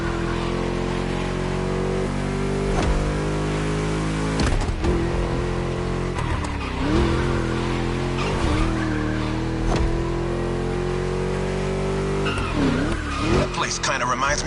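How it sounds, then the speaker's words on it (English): A V8 engine roars in The Crew racing game, a deep, continuous, loud drone with tire squeals and skids cutting in, while a voice talks over it. "Just listen to that V8, like a chunky, down-tuned guitar riff"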